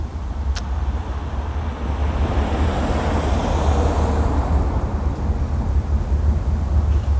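Outdoors, cars and motorcycles pass by in a steady, fairly loud roar of road noise and engine rumble that swells gently and carries some wind buffeting, with no talking.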